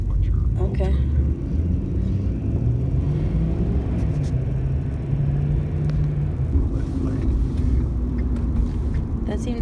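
Pickup truck with a 6.7 engine climbing a hill, a loud steady low rumble of engine and road noise from inside the cab, with some shifts in engine pitch as it pulls upward.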